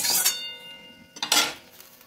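A heavy metal wok clanks down onto a stovetop, with a second clatter a moment later and a lingering metallic ring.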